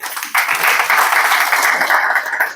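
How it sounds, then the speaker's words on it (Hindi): Loud applause breaks out at a distributor workshop, a dense burst of many people clapping that starts after a brief pause and holds steady to the end, close and strong. "जोरदार ताली इनके लिए"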